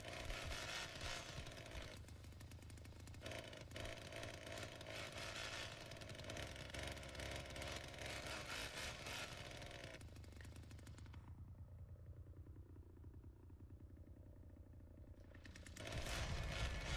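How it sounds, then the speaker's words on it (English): A chainsaw idles in the Texas Chainsaw Massacre video game: a close, sputtering, rattly engine drone that runs steadily, thins out for a few seconds, then surges back at the end. "Sounds like a very sad chainsaw"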